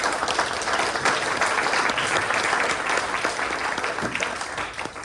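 Audience members at a county board of education candidates forum applaud the at-large candidates: a steady wash of many hands clapping, moderately loud and even, tapering off slightly toward the end.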